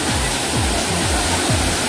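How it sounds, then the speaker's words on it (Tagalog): Daranak waterfall in Tanay, Rizal, a loud, steady roar of falling water filling the scene without pause, heard up close with no talk. "Ito yung isa sa falls dito."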